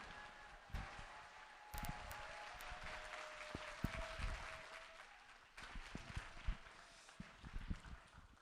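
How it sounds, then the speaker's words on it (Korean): A church congregation in Seoul applauds to welcome a missionary at a Sunday service, a soft, continuous wash of clapping spread across the room and heard from some distance. "할렐루야로 하나님께 영광 돌리고 박수로서 환영해 드리겠습니다"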